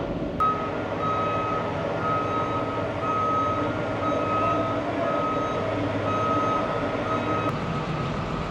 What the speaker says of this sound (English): Here's another semi-truck that's backing up the big ramp.